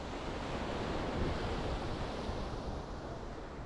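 Ocean waves wash onto the coast before dawn, a soft, continuous broadband rush of surf with gentle swells, faint and distant, with no other sounds.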